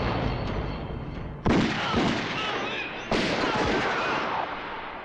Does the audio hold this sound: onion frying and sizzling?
no